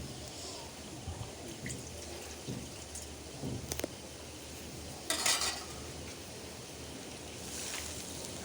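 Potatoes being stirred and mashed with a little added water in a pot for an aloo kosha curry, with soft scraping, faint clinks of a utensil and a brief watery rustle, quiet and steady in a kitchen.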